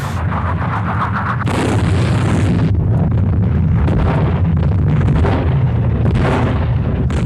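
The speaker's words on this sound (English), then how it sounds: "Zhukov immediately launched a preemptive artillery barrage" Preemptive artillery barrage by Soviet forces at the 1943 Battle of Kursk, a dense continuous roar of heavy explosions and rumbling blasts that stays loud throughout with no voices.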